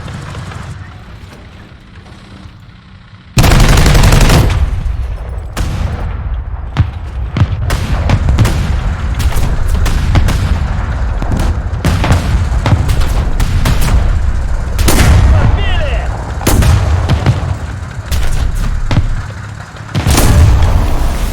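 Weapons fire in a Garry's Mod battle at a nuclear ballistic missile base: a sudden loud opening blast, then a dense, steady run of booming shots and explosions that continues without letup, with voices talking over it.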